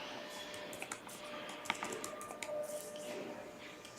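Soft keystrokes on a computer keyboard as Java code is typed, quick irregular clicks over a quiet room hum, faint and close.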